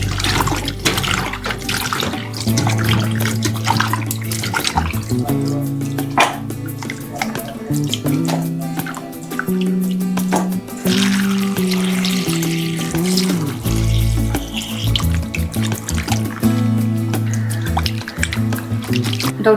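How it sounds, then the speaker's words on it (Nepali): Wild fiddlehead fern shoots are washed by hand in salted water, with steady splashing, sloshing and dripping close by and background music throughout. "अलिकति नुन हालेर पखाल्छु म यसलाई"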